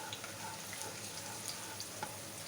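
Ingredients browning in hot oil in a pan for chicken fried rice, a steady soft sizzle and crackle with faint scattered pops, close and fairly quiet throughout.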